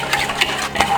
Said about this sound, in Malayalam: ഒന്ന് മിക്സ് ചെയ്യാം.